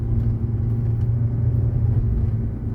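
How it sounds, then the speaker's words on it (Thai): A Mitsubishi Xpander's engine drones low and steady, held in a low automatic gear while the car descends a steep hill, with continuous close road rumble. "จะมีเสียงเครื่องนิดนึงนะครับ แต่ไม่เป็นไรครับ การลงของมันเป็นปกติครับ"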